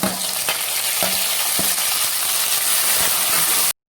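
Onions with added tomatoes frying in a pan for Tamil kudal kulambu, a steady close sizzle and hiss with several sharp clinks and scrapes of a stirring spoon, no talk, ending abruptly.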